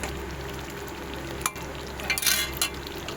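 Curry gravy simmers and fries gently over low heat in a pan, a soft steady sizzle with a few quiet scrapes of a stirring spoon toward the end.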